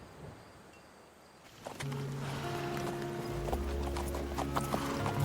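Horse hooves clip-clopping at a steady walking rhythm, fairly faint, with some outdoor background noise and a low hum.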